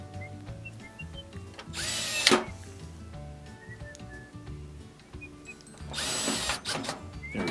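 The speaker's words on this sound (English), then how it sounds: "We're putting in these 2 silver screws." A power drill drives two silver screws into a GE washer dryer combo during a drain repair, with two loud whirring bursts separated by quieter handling noise.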